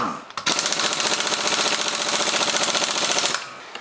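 A pneumatic impact wrench fitted with a black impact socket on a Ford Maverick wheel during a wheel spacer install, firing one loud, close, continuous rattling hammer burst of about three seconds.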